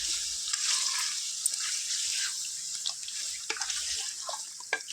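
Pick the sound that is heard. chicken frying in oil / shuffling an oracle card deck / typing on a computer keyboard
chicken frying in oil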